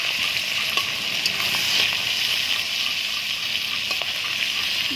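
Steady, crackling sizzle of crabs frying in hot oil, with occasional clinks and stirring sounds, continuous and fairly loud throughout.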